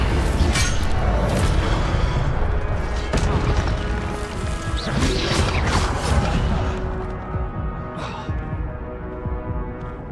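The Incendio fire spell goes off in Hogwarts Legacy as a loud, roaring, crackling burst of flame with heavy booming, sustained for several seconds before gradually easing.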